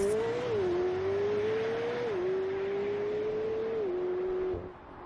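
A race car accelerating from the start in a Group 3 and 4 GT racing video game, one engine whining upward and stepping through several gear shifts, steady and close before easing off at the end.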